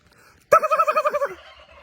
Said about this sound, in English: Got my birds yelling at me.